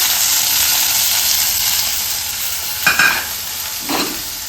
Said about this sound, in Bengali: এই এর মধ্যে চলে যাচ্ছে পেঁয়াজ, পেঁয়াজটা হচ্ছে লাল লাল করে ভেজে নেবো।